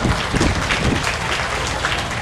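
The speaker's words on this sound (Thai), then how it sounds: "เสียงปรบมือดังๆให้อีกครั้งหนึ่งได้ไหมครับ" Loud, dense applause from an audience at a closing ceremony, a continuous wash of clapping filling the short stretch with no speech.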